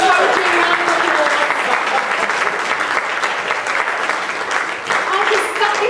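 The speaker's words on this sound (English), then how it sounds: "Let's give a big encouraging round of applause." A cabaret audience at a diva-themed comedy show gives a loud, sustained round of applause, dense and even throughout with voices mixed in beneath the clapping.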